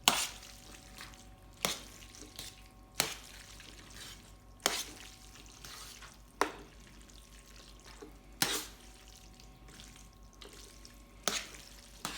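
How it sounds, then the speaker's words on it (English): Spaghetti bolognese sauce with meat and cheese stirred in a pan, a soft steady simmer broken by sharp spoon knocks and scrapes every second or two, close and fairly quiet, with no voices. "Stir this one a little bit."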